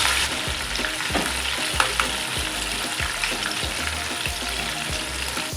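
Butter sizzles steadily in a hot pan for tuna escabeche, a dense continuous frying hiss with occasional spatula scrapes and light clinks, loud and close with no talking.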